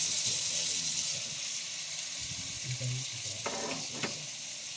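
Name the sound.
pork sautéing and sizzling in a pan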